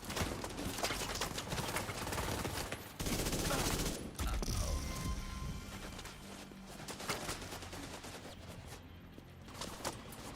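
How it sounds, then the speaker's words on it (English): Machine gun fire in The Division 2, a dense run of rapid shots with other gunfire and chaotic combat noise all around, loud and sustained. "I love that machine gun"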